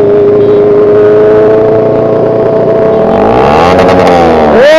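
Honda CBR600 sport bike engine, very loud and close, holding a steady idle-like drone before revving sharply upward near the end with a rising howl.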